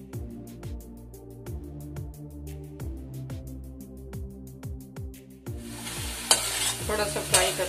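Ridge gourd sizzles steadily in a hot pan while a spoon scrapes and stirs in a regular rhythm, ending with a louder burst of frying.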